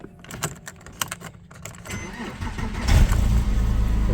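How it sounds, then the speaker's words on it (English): A Porsche 997 with a starter fault gives a few dry clicks before the starter engages and the engine cranks and catches, rising to a loud, close rumble that holds steady to the end. "2 or 3 clicks and the starter is then engaging."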